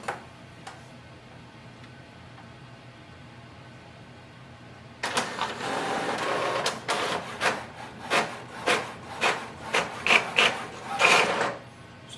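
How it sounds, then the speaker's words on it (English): An HP OfficeJet Pro 9125e inkjet printer starts up and prints a welcome sheet, moving from quiet hum into a rhythmic series of close, loud mechanical whirs, rasps and clicks from the paper feed and carriage, with no one talking. "Let's print the welcome sheet and we'll check if our printer is working."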